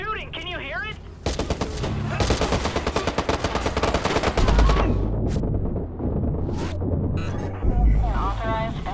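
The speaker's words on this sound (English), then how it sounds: "He's shooting! Can you hear it?" Rapid automatic gunfire erupts during a criminal convoy police pursuit, loud sustained bursts of shots over engine and wind noise, with a voice speaking at the start.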